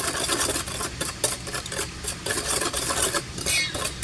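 A spoon stirs sugar into vinegar for a sweet and sour sauce for tilapia, a close, continuous scraping and swirling with light clinks against the bowl, steady throughout with no talking.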